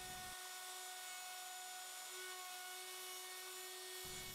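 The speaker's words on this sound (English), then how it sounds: "I used a router to hand route the actual space for the fish in the recess" Hand-held router cutting a recess into maple wood for a fishing net handle, a steady high whine with tonal hum running continuously at close range, with faint low rumble at the start and end.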